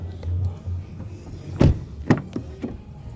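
Electric windows on a Volvo XC60 D4 whir briefly inside the car, a low motor hum followed by a few soft clunks and thumps as the glass travels and stops.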